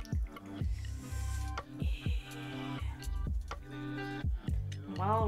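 A paintbrush is rinsed in water, giving repeated dripping, squishing swishes in an uneven rhythm, with tonal, voice-like sounds layered over the top.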